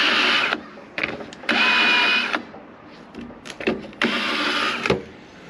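A drill countersinks a screw hole in a vinyl window in three loud, close bursts of whining, grinding spin of about a second each, separated by short pauses with small handling clicks.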